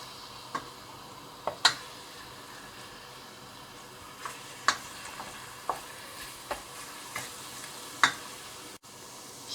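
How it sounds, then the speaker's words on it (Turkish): Garlic frying in olive oil for a Turkish vegetable stew, a soft steady sizzle broken by about nine separate sharp clicks of a spoon against the pan, spaced irregularly. "Yağın içerisine ilk önce sarımsağı koyacağım."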